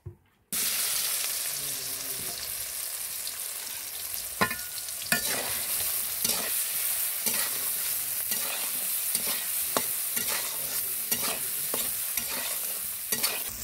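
Oil sizzles hard in a pan while soybean chunks coated in chili powder fry, a loud continuous crackle broken by repeated sharp scrapes and knocks of a stirring spoon, close and without speech.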